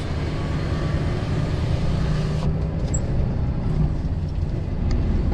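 A car cruising along a French departmental road, with a steady loud engine and tyre roar filling the whole stretch, no voices over it.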